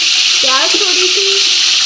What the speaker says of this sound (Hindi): प्याज हमारी लाइट ब्राउन हो गई है